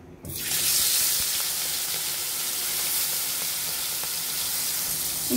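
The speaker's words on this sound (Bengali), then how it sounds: "এখন আমরা মাছগুলো তেলে ভেজে নিব।" Prawns dropped into white oil in a wok, a sudden loud onset of sizzling that settles into a steady, dense hiss close by.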